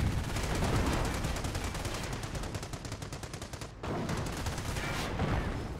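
Machine gun fire from a bunker during combat in the strategy game Company of Heroes: a continuous rapid rattle of automatic fire with a brief break near the end, then dense battle noise resuming, with no voices.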